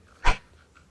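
A single short dog bark from a pet in the PK XD mobile game, one loud burst near the start, then quiet apart from a faint later blip.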